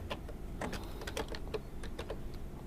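Clicky keystrokes from someone typing text into Microsoft Word 2007 on a computer keyboard, a steady scatter of quick taps over a low background hum.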